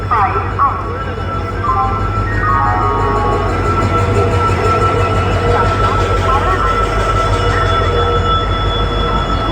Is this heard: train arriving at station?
yes